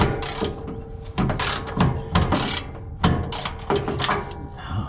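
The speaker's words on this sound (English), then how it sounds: "we're working on getting the bolts for the steering box free" A ratchet works on steering box bolts, with several bursts of rapid clicking separated by short pauses, close and fairly loud, as the bolts are loosened.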